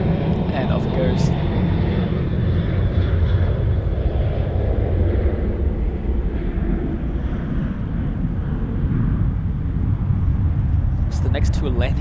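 An airplane takes off at Sydney Airport, its engines producing a low, continuous roar that rumbles on steadily from start to finish.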